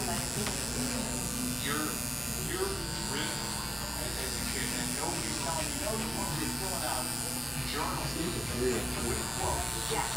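Electric hair clippers buzz continuously while cutting hair for a bald fade. The motor hum is steady, with short rasping sweeps as the blade passes through hair, and a voice talks over it throughout.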